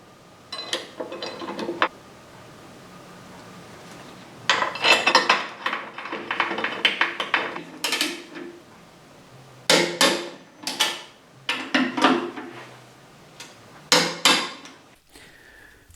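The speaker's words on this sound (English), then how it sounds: "pop the bolts in with a little dab of blue thread lock and torque them up between 16 and 20 foot-pounds" Bolts on a Harley-Davidson docking kit strut are tightened with a torque wrench, producing bursts of metallic ratcheting clicks and clanks in irregular clusters. Short pauses separate the close, crisp bursts, and nobody speaks.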